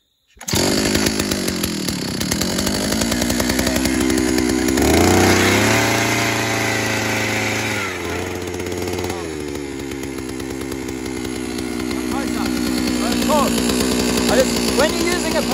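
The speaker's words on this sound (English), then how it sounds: "When you're using a post hole borer, it's important to have sort of high revs to keep it spinning rather than lugging it." A petrol post hole borer engine starts after a pull cord and runs with a close, loud two-stroke buzz, revving up and settling, the pitch shifting as the throttle changes, with a voice talking over it.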